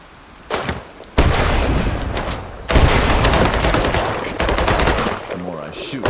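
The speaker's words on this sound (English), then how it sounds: "The more I shoot, the more I attract the enemies." Rapid gunfire in the video game Sancticide, loud sustained automatic bursts separated by brief pauses, up close and dense, with no talking over it.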